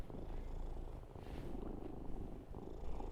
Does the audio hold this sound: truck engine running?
no